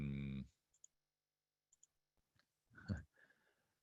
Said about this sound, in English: I'm clicking on the different tabs to see if there are any others that I didn't lose